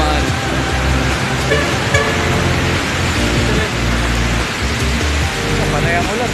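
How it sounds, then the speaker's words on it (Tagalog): Steady rain on a city street in Commonwealth, Marikina, a loud dense wash under passing traffic, with car horns tooting and a voice briefly audible. "Sa panay ang ulan eh."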